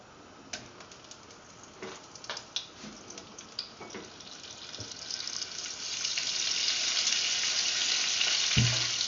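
Butter hits hot preheated oil in a pan for frog legs and crackles in scattered pops at first, then builds into a steady, close, loud sizzle as it melts, with no voices.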